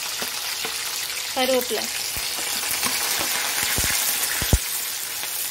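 Onions sautéing in hot oil with fenugreek and mustard seeds for brinjal kuzhambu, a continuous close sizzle with scattered spatters and stirring taps, and a brief spoken word over the top.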